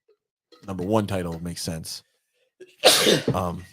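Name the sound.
sneeze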